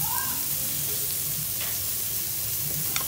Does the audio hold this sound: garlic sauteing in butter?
yes